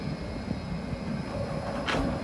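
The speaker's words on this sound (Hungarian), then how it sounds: "Minden esetre itt érkezik a villamos." A tram pulls in at Košice railway station in Slovakia, a steady low rumble and rolling clatter throughout, with a brief hissing burst near the end.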